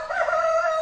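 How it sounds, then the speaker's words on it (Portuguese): A rooster gives a single close, loud crow, one bright sustained call lasting under a second. "O galo."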